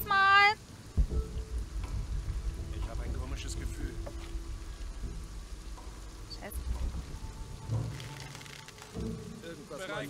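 Steady storm rain in the video game Shadow of the Tomb Raider, a dense hiss of falling water running throughout under low rumbling, with voices speaking intermittently over it.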